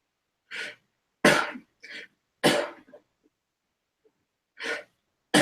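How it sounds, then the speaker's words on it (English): Several sharp coughs and throat-clearing bursts from a man with spinal muscular atrophy, close and fairly loud, in uneven clusters separated by short silences. "You never know when you're gonna have a coughing break."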